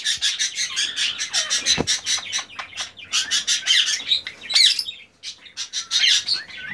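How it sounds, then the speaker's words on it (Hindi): Green ring-necked parakeets in a breeding cage give loud, rapid chirps and harsh squawks in overlapping bursts, close and continuous with no talking. "ग्रीन रिंग नेक ने ब्रीड की है वो ये पेयर है"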